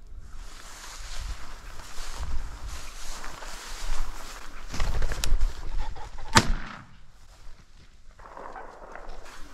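Rustling brush and footsteps, then a sudden burst of wingbeats as a rooster pheasant flushes, followed by a sharp loud shot; no talking.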